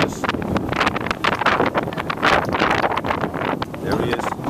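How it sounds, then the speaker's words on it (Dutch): Wind buffets the microphone in a loud, continuous rumble, with gusts swelling and easing throughout. "sorry for the wind"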